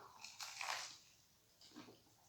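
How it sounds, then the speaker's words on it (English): Teeth bite into a crunchy fried calzone filled with mortadella and pecorino romano, giving a quiet, close crunch followed by a softer second crunch. "Yeah, crunch."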